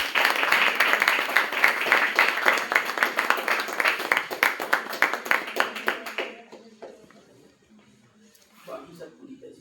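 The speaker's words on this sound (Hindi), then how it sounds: "ये तालियां बजती रहनी चाहिए।" An audience at an Atal Ji birthday celebration claps in a loud, fairly rhythmic run of beats for several seconds, then falls quiet as a voice speaks faintly.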